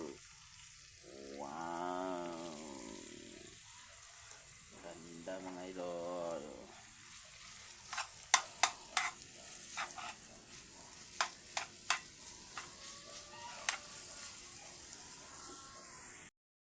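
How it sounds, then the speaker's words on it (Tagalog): Boiled bamboo shoots (labong) being sautéed and stirred in a pan, a low frying hiss under a speaking voice at first, then clacking spatula scrapes and taps against the pan. "lagay ko ng labong mga idol"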